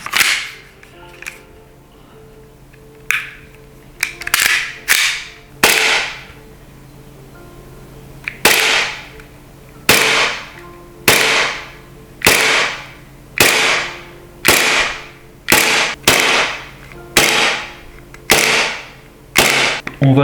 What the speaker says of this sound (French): On va insérer un chargeur et on va faire les tests de tir à vide.